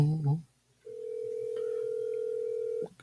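A steady telephone dial tone hums unbroken for about two seconds while someone places a call, following a brief burst of speech and a short pause.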